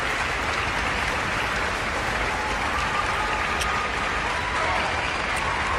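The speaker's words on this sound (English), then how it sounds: "Listen to that crowd." Audience applause for a university concert orchestra fills the whole stretch, a dense steady roar of clapping with no break and only a faint trace of voices beneath.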